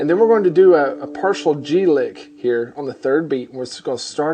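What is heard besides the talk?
No distinct noise like a dog, phone or traffic.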